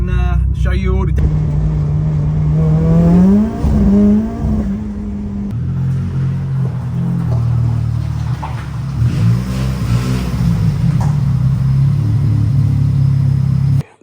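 A drift car drives back toward the garage after a session in Ireland, its engine rumbling loud and close with a few revs rising and falling throughout, and voices talking over it.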